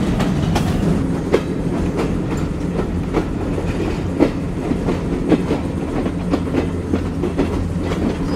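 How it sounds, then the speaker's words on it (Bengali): The Rocket Mail train pulls out of Khulna divisional station on a gentle curve, its wheels beating a steady, close clickety-clack rhythm with occasional sharper rail knocks. "আমাদের ট্রেন ছোট্ট একটি কার্ভের সাথে বেরোচ্ছে বিভাগীয় স্টেশন খুলনা থেকে।"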